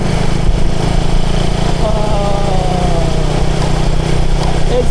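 A motorcycle engine drones steadily and loud while riding on a cool day, with a constant buzzing hum throughout and a voice briefly heard over it.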